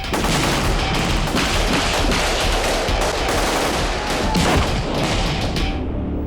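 Live-round gunfire rattles without pause during a special forces military training exercise, dense overlapping bursts of rapid automatic shots filling the whole stretch loudly and close.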